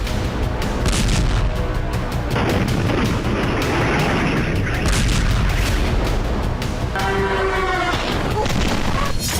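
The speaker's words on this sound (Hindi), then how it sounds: "यूक्रेनी सेना रूसी धरती पर नॉनस्टॉप विस्फोट कर रही है।" Explosions and heavy booms from attacks on Russian territory in the Russia–Ukraine war, dense and loud throughout, with rumbling blasts overlapping and a sharp whining streak near the end.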